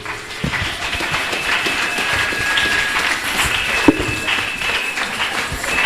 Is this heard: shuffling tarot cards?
no